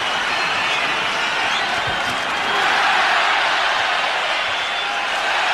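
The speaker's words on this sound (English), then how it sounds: "Brings the crowd out of their seats" A dense arena crowd roars and cheers at a heavyweight boxing match as Wladimir Klitschko lands right hands on Chris Byrd, a loud sustained wash that swells midway.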